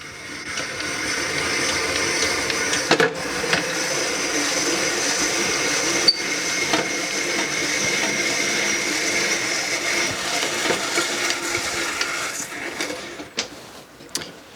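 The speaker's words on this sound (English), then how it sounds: "Just start turning the handle, and the apple will go over there." A hand-crank apple peeler corer slicer working through an apple gives a steady mechanical whirring and scraping that runs close and unbroken, with a few sharper clicks along the way and no talk over it.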